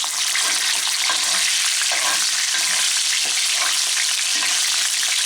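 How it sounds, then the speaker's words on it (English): Steady, loud sizzling of sous vide salmon frying in a hot pan, a dense crackling hiss with occasional pops, no voices. "You want to hear that sizzle."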